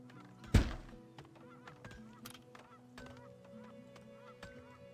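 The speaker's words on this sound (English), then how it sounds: "Those are seagulls." Seagull calls in the video game Farthest Frontier, a loud honking cry at the start followed by fainter, scattered calls over a steady ambient game background.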